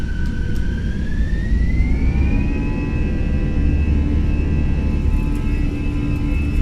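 Airbus jet engines spooling up to takeoff thrust in a flight simulator, a steady rising whine climbing in pitch over a deep, continuous engine roar, loud and sustained.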